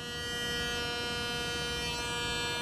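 An electric razor buzzing steadily with a dense, even whine, close and continuous with no talking.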